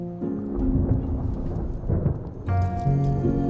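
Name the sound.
thunder before rain, from a TV drama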